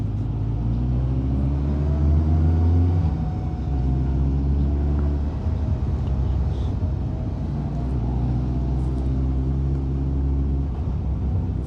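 A small Porsche car driving past on the road, a steady engine drone with gliding pitch that swells and eases over several seconds. It sits under a constant rumble of wind and a nearby engine.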